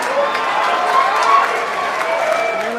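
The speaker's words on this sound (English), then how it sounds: "And you hear the cheering in the background." Cheering and applause from a crowd during a SpaceX Falcon 9 ORBCOMM-2 launch broadcast, a steady, fairly loud wash of cheers and clapping with voices mixed in.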